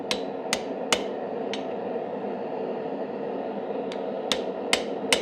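Hammer striking a thin chisel held against hot metal while forging a twisted wand, sharp ringing metallic blows in two bursts of four and three, close and loud over a steady forge roar.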